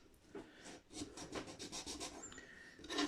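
Sandpaper rubs back and forth on the wood of a 1994 Gibson Gospel acoustic guitar in a steady run of short rasping strokes, close but quiet.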